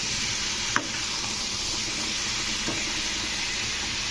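Fish curry of rohu with ridge gourd and potato frying in a pan, a steady sizzle throughout with a couple of brief clinks from stirring spices in, no talk.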